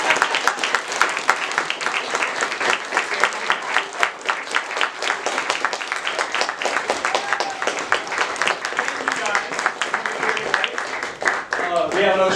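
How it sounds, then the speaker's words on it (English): A theatre audience applauds at the close of a Christmas staging of The Tempest, dense sustained clapping from many hands filling the room with a few cheers, fading slightly near the end. "we'd like one more round of applause"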